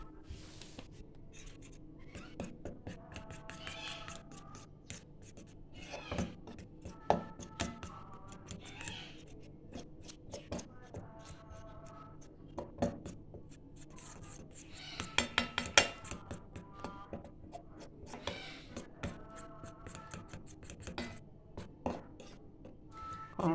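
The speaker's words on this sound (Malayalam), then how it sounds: "ഇതുകൂടി ചേർത്ത് നന്നായിട്ട് ഒന്ന് അടിച്ചെടുക്കാം" Egg mixed with cornflour is beaten briskly in a bowl, with a long run of quick, irregular clinks and scrapes of the utensil against the bowl, close and with no talk.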